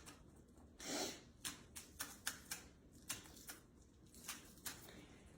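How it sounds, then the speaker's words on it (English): A knife finely chops green onion on a cutting board in a home kitchen, giving a quiet run of crisp, evenly spaced taps close by with no talking. "And just finely chopping it up in little pieces."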